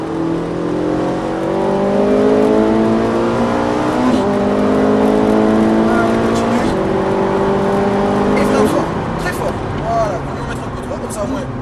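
A Ferrari 458 accelerates hard on a track, its engine note climbing in repeated rising sweeps through gear changes, loud and close, with an instructor speaking over it.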